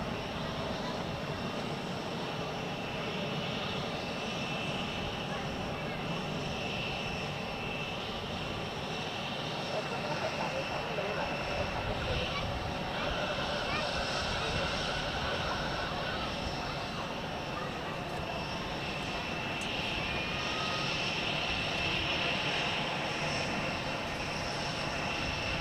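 Lufthansa airliner parked at the gate at Zurich Airport with the boarding bridge pulled away, ready to depart, a continuous engine whine and hum over a low rumble, with a voice talking in the background.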